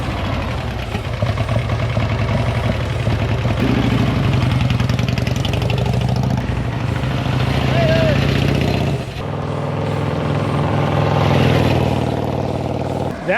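Harley-Davidson Panhead motorcycle engine idling steadily and loudly throughout, a continuous low mechanical rumble with people talking over it.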